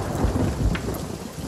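Thunderstorm with rain in the pirate game Sea of Thieves, a close rumble of thunder rolling over a steady wash of rain, brief and loud with no voices.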